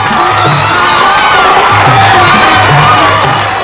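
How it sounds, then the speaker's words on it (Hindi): A crowd of villagers cheers and shouts together in celebration, a loud, continuous wall of joyful voices with children's calls rising through it, steady throughout. "गांव वालों ने खूब धूमधाम से खुशी मनाई"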